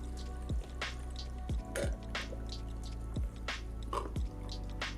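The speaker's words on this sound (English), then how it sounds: "you might need to add a little bit more coolant or distilled water back into your system" Coolant or distilled water drips into the reservoir of a water-cooled PC in slow, irregular single drops, each a small close plink over a steady low hum.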